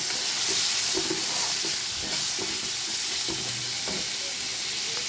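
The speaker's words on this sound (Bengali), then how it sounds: "কড়াইতে আমি আলুটা ভেজে নেব" Potatoes with a little turmeric frying in hot oil in a kadai, a loud continuous sizzle and hiss with occasional soft stirring knocks, steady from start to finish.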